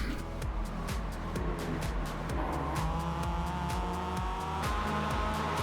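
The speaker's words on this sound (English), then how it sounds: "the black car finally makes his move on me and overtakes me" In a racing video game, a black car overtakes with a steady, close engine drone and shifting revs, while short periodic ticks and tire noise run through the pass.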